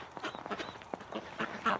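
Ducks quacking outdoors on a freezing winter night, temperature dropping toward minus 20, giving a scattering of short, raspy calls at moderate distance over a quiet background.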